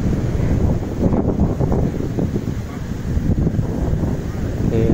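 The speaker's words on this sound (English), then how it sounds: "Today this morning I have a little bit windy." Morning wind on Patong beach in Phuket, Thailand, buffets the microphone as a steady, loud, rumbling roar with small gusty swells, continuous throughout and with no clear voices.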